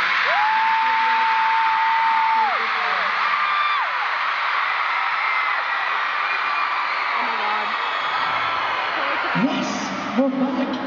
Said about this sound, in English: Already, one of the loudest crowds we've had in this American tour.